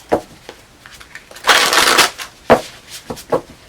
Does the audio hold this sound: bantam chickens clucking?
no